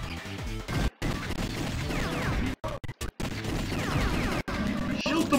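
Rapid gunshots from the arcade light-gun game House of the Dead 2 on Dreamcast, a dense run of sharp pops and crashes with brief silent gaps, mixed with game sound effects.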